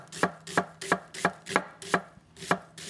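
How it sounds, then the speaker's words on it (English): Knife chopping onions finely on a board, a steady series of about nine crisp, evenly spaced cuts, close and alone with no talking. "We're just going to chop one of them and we're going to do the caramelized onions by chopping them"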